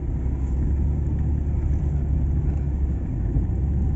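A car used for rounding up horses rumbles steadily and loudly from start to end, a deep continuous engine drone with no pauses and no speech.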